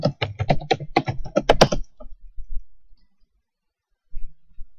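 A quick burst of computer keyboard typing with rapid clustered keystrokes, then a few softer taps, a pause, and a short final flurry of keys.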